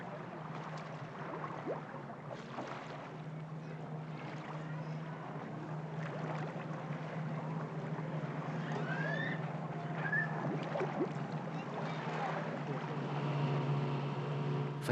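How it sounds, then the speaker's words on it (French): Muffled motorboat engine hum played into a pool and heard underwater, a steady low drone with scattered clicks and faint chirps over it throughout. "transmettre dans la piscine le bruit d'un bateau à moteur"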